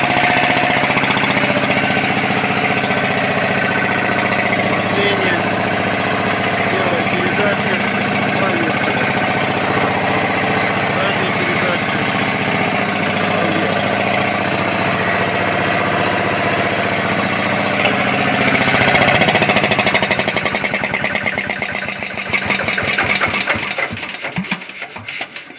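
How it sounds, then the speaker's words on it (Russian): A small Lombardini diesel engine on a KMZ-012 mini tractor chugs steadily up close with a rough, rattling clatter, continuing without pause before the tone shifts near the end. "Движок и так заводится бодро."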